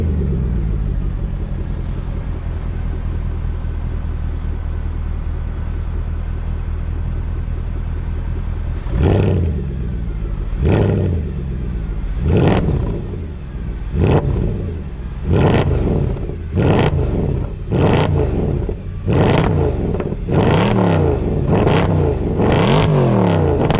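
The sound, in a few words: car engine revving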